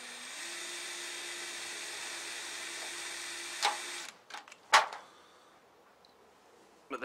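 An electric drill whines steadily for about four seconds while boring air holes into a metal can meant as a camp stove wind screen, then stops, followed by a few sharp metallic clanks and handling knocks.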